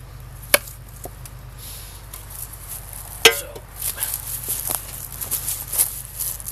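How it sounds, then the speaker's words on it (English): A few sharp, hollow chops into a Howden pumpkin with a Condor bolo ring out with pauses between them, followed by lighter knocking and scraping in a quiet outdoor space. "You wanted to see some chopping"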